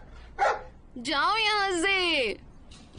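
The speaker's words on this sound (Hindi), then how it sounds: "भौंकना बंद करो" A dog barks once sharply, then lets out a long drawn whining howl that rises and falls, close and fairly loud, with a man's brief spoken line before it in a Korean drama household scene.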